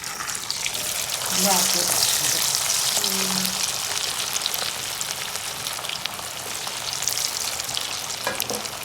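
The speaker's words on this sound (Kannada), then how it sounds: "ಈಗ ಈ ಕಬಾಬ್ನ ಎಣ್ಣೆಗೆ ಹಾಕ್ಕೊಂಡು ಕರ್ಕೊಳ್ಳೋಣ" Marinated homemade chicken kebab pieces frying in hot oil, with a steady loud sizzle and occasional stirring and clatter close up throughout.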